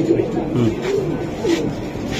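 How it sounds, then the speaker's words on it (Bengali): A racing pigeon coos close by in soft, rolling phrases, a few low warbling calls over quiet background murmur. "এই যে দেখেন কবুতর দেখেন মাশাআল্লাহ।"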